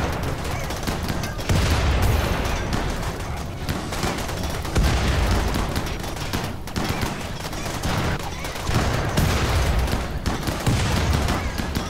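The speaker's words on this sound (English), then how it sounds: "They keep throwing frag grenades on one another." Frag grenades going off in the video game RimWorld, a dense run of booming explosions and crackling blasts that swell in several loud waves over a continuous din of combat.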